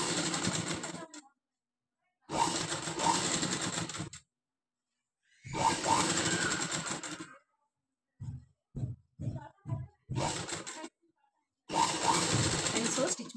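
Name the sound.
sewing machine stitching frills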